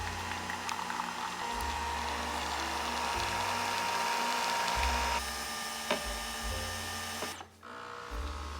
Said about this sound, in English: You wanna brew the shot directly into all of that stuff. So we're gonna let her brew.